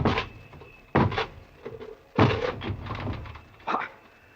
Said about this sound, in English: break this door down